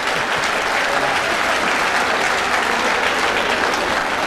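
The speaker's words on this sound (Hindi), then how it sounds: "इस पर आपको जोरदार ताली बजाएं" A large audience claps loudly and continuously at a Hindi poetry recitation, a dense, even wall of applause with no pauses.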